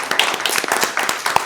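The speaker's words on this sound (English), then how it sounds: "Big round of applause." Brief scattered clapping from a small group at a county board of commissioners meeting, a short burst of quick, uneven claps heard fairly close.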